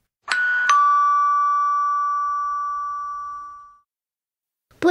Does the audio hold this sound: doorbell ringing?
yes